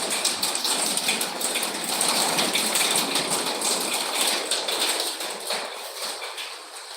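Rain falling at night in Kuwait, a steady close patter of drops on a surface that gradually eases toward the end.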